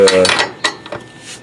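Tightening down a subframe connector on a Thirdgen car: a few sharp metallic clinks and taps of a tool on metal, close and brief, with light ringing after each hit.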